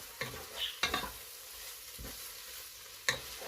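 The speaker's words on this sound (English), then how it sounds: "Just stir a bit." Beansprouts stir-fried in a pan with oyster sauce, a soft sizzle running under a few sharp scrapes and clatters of the utensil against the pan, with no one talking.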